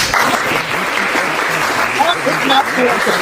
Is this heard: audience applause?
yes